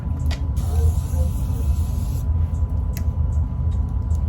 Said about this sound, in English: put some setting spray on